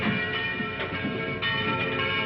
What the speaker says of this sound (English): the bell that rang with no man alive to pull the rope